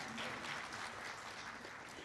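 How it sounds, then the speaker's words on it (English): Audience applause at a community partner breakfast at a university, a steady wash of many hands clapping, fairly distant and even throughout. "yes, you can clap."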